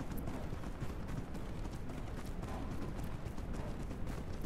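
Horse hooves gallop in a video game, a steady, fast, dense drumming of hoofbeats at moderate volume that continues throughout without talk.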